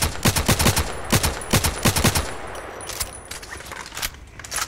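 Rapid bursts of automatic fire from an RFB rifle in the shooter game Contract Wars, three tight clusters of loud, close shots in the first two seconds, then fainter scattered shots and background game noise.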